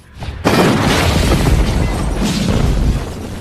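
A store blown up in the film Splitter: a sudden loud explosion bursts in and then rumbles on with a sustained roar and crackling debris.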